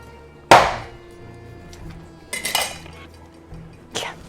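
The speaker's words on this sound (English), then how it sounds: "Carefully pry out the flesh with a dull knife, or continue tapping the shell until it breaks apart." A knife taps a coconut shell to crack it, giving three sharp hard knocks spaced about two seconds apart over a quiet room hum, the first strike the loudest.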